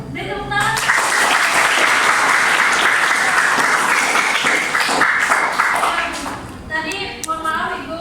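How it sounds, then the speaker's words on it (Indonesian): Students in a classroom clap together during an academic supervision coaching session at a Bekasi high school, a steady dense round of applause that tapers off as voices return toward the end. "Beri tepuk tangan."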